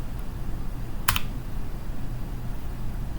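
Brief burst of computer keyboard typing, a quick cluster of key presses near the middle against a low steady room hum, no talking.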